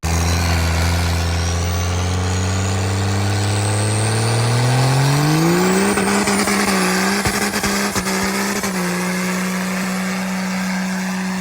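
A race truck engine revs through a heat run, its deep tone climbing steadily and then holding high and loud, with rough, crackling bursts near the end and no voices.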